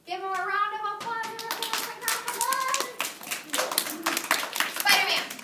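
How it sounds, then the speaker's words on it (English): Kindergarten children clap in a round of applause, a dense burst of many small hands close by, mixed with a voice and chatter at the start. "Give him a round of applause."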